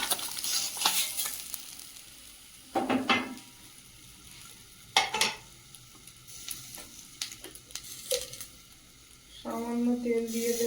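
Fish sizzles steadily in hot oil in a home kitchen, with scraping and clinking as pieces are turned and lifted out of the pan; bursts of frying rise and fall across the stretch.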